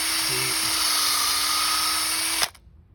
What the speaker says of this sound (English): So when you're drilling the holes, you want it as low to the ground as possible, right at that root flare.